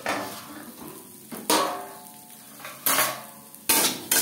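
A lid clanks onto a pan of frying bitter gourd three times, each a loud metallic clatter over a soft oily sizzle at low flame.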